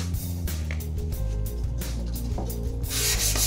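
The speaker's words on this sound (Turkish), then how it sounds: "Binlik, bin kumluk zımparayla" A World War I bayonet is rubbed with 1000-grit sandpaper, giving a steady close scratching and rasping in quick back-and-forth strokes over a low mechanical hum.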